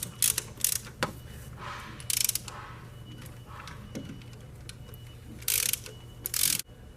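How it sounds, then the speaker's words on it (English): A ratchet and socket seat the rocker bolts on a Land Rover Discovery Series 2 cylinder head, giving quick bursts of close metallic clicking separated by short pauses and light clanks, with no one speaking. "we're just going to use a ratchet and a socket to seat them down"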